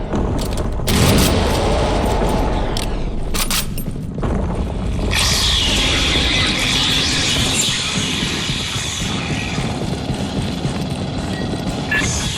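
Explosions from mines going off amid gunfire in the sci-fi shooter Aliens: Fireteam Elite, with a heavy boom near the start and dense, loud rumbling blasts and clatter running throughout.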